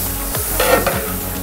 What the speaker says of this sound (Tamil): 3/4 லிட்டர் தயிர், 3 கிலோ தக்காளி நல்லா மிக்ஸ் பண்ணோம்